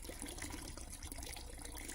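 Water runs steadily from a tap to fill a soil permeability test, a faint, even, continuous gushing hiss with no talking.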